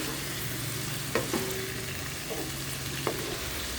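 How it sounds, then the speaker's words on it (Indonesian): Food stir-fried in a pan as the liquid cooks down, turned over and over, gives a continuous close sizzle broken by a few sharp spatula scrapes and clinks against the pan. "masak sampai air menyusut, sambil dibalik-balik agar tidak gosong"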